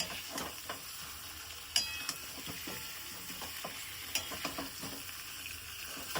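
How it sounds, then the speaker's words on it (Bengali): Chicken and fried potatoes are sautéed together in a pan, giving a soft continuous sizzle under repeated scraping and clinking of a spoon against metal, close but fairly quiet. "চিকেন গুলো দিয়ে দেবো, দিয়ে এবার সব মিলিয়ে কষানো হবে"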